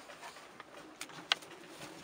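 A racing pigeon cock in a loft gives soft, short coos with a few faint clicks and one sharper burst near the end, all fairly quiet and close, with no talking.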